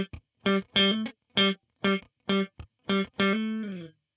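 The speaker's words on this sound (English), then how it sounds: "if I just play the fretted notes on their own without any of the funky muted string stuff, it would sound like this." A funk riff on an electric guitar with a distorted, effected tone, playing only the fretted notes without muted strums. About eight short, separated chord stabs come in a steady rhythm, ending on a longer ringing note with a slight bend.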